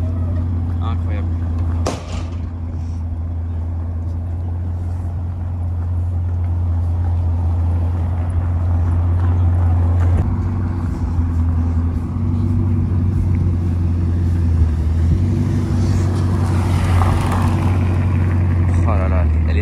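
Bugatti Chiron Pur Sport hypercar rolling down off a transport truck, a steady low engine drone with deep tonal hum throughout, rising slightly in the second half, while people talk nearby.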